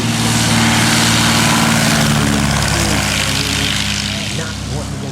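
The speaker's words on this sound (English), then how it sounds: "we're getting that takeoff roll, tail dragger" A tail-dragger propeller airplane roars through its takeoff roll at high density altitude, a loud, steady engine drone with dense broadband prop noise that eases slightly toward the end.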